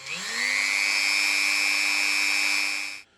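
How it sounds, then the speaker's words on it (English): A small power drill runs steadily for about three seconds, boring into a resin miniature model to make a hole for magnets, a close whine that spins up and stops abruptly. "I've decided where I want that drill bit to go."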